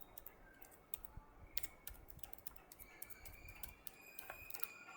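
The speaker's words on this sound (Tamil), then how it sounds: "டைப் பண்ணிக்கோங்க." Quiet, rapid keystrokes on a computer keyboard, an irregular run of light clicks over a faint background.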